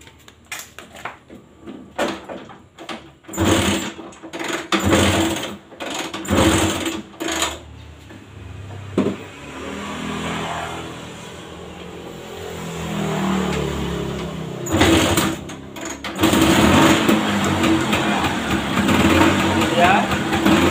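Vespa scooter engine running with a leaking compression fault, a buzzy two-stroke idle and revs with a faint squeak, starting in short bursts then held for a longer stretch, with someone talking over parts.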